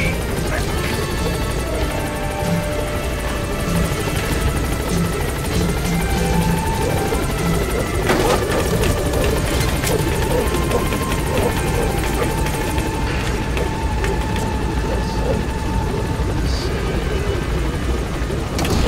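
A military helicopter in Metal Gear Solid V hovers at a landing zone and then lifts off, its rotor beating in a loud, continuous drone with faint background tones.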